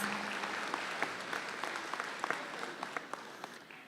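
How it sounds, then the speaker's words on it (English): Audience applause at the Coal Bowl 2025 closing ceremony in a new education center, a steady wash of many hands clapping with a few sharper claps standing out, moderately distant and unbroken for the whole stretch. "Please give yourself a round of applause."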